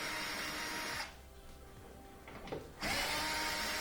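A power drill spins out 3/4 inch screws from the top of a Whirlpool washer, a loud whirring burst, a short pause with faint clicks, then the motor whining again up close.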